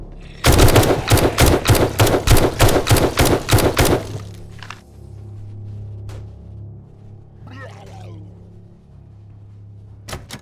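Rapid automatic gunfire from the video game 7 Days to Die: a loud burst of a dozen or so closely spaced shots over about four seconds, then a low steady hum with a few faint scattered knocks.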